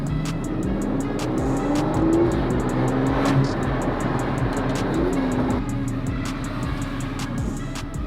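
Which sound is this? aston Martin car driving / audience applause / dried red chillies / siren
aston Martin car driving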